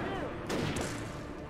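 Enemy gunfire aimed at the player in the Alan Wake video game, a dense, continuous rattle of shots under a loud, busy game mix.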